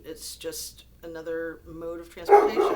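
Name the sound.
dog barking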